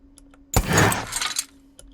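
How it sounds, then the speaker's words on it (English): A single short metallic swish and scrape of a weapon being unsheathed in the game Asgard's Wrath 2, like a blade drawn from its sheath, loud and close, fading out within a second. "we started with sort of the unsheathing sound here."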